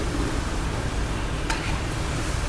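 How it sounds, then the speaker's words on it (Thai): Coconut filling with sugar for khanom thian being stir-fried in a pan, giving a dense, steady sizzle and shuffling stir with one brief sharp scrape midway; no one speaks. "พร้าวนี่ต้องผัดให้หวานถึงน้ำตาลนะครับ"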